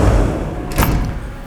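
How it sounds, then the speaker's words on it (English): A CNC machine's door is closed with a single short thud and rattle over a loud, steady machine-shop hum. "So if I close my door,"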